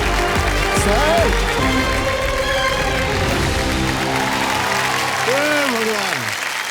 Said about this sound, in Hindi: तालियां मैं दे रहा हूं इनके लिए